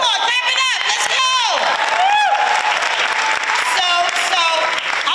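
Audience at the New Jersey Performing Arts Center claps loudly and steadily throughout, with whoops and cheers rising above the applause.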